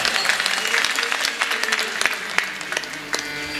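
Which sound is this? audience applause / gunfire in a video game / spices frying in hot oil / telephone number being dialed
audience applause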